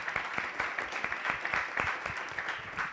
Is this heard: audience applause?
yes